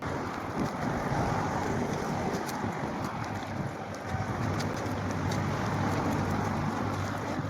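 Wind blows steadily at a botanical garden in Chandigarh, a constant close rumble buffeting the microphone with faint high chirps mixed in. No one speaks.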